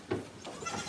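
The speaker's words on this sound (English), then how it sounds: "Oh, there's a lot of goats in here." Goats bleat in a barn pen, one clear close bleat followed by softer overlapping calls in a short, quiet burst.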